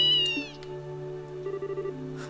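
A cat meows in the video game Legend of Heroes Trails in the Sky SC, a short rising-falling meow over a steady synthesized game music bed, followed by brief plinking game tones.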